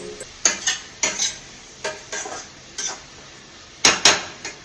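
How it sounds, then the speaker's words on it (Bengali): Spices with a little Kashmiri chili powder being stir-fried in a pan while cooking prawns with Malabar spinach: several crisp, distinct scrapes of a spatula against the pan in an irregular rhythm, over a faint sizzle, close and clear with no talking. "মশলাগুলো একসাথে দিয়ে কষাবো"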